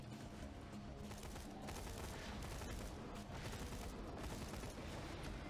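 Burst-fire gunshots in the Borderlands 2 video game crackle in rapid, densely packed volleys that run continuously and loudly from start to finish, with no talking.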